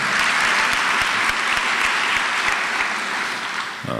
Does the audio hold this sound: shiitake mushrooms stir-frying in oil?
no